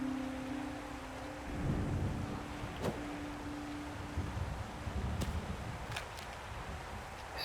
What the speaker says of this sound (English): Still hearing that thunder.